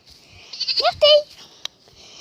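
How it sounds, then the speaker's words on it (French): A young female pygmy goat gives a couple of short, high bleats close by, brief and sharp, with a person's voice nearby. "Donc je sais pas si vous entendez les petits bêlements."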